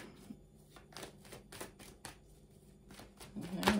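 A deck of playing cards is shuffled up close in a series of quick riffling and slapping bursts, ending in a louder snap of cards, with faint room noise underneath.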